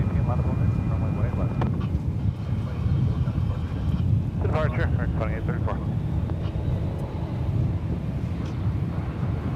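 A Spirit Airlines jet taking off for Phoenix at DFW Airport makes a broad, steady roar with wind buffeting the microphone, while voices and radio chatter sound over it throughout.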